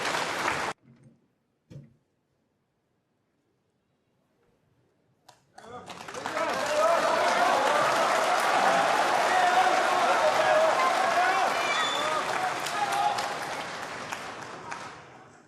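Snooker crowd at the Xi'an Grand Prix applauding after Ding Junhui levels the match with a century break. Short bursts of clapping lead into a near-silent pause, then sustained, loud applause swells and holds before slowly tapering off.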